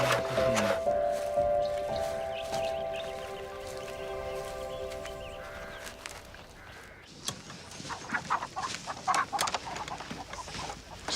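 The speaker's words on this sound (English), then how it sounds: "Chickens have been laying real good since you got here." Chickens clucking around a farm in a Western setting, scattered soft clucks and chatter that grow busier toward the end, with steady tonal sound in the first seconds.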